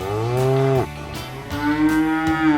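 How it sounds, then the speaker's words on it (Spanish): A cow moos twice on a farm, each call a loud, close, drawn-out bellow with a falling pitch at the end, separated by a short pause. "Soy una vaca y este es mi ternero."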